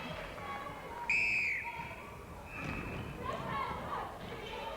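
A referee's whistle shrills once at an Australian rules football match between South Australia and another side, a short bright blast rising over a noisy crowd and commentary, followed by thuds and crowd swell.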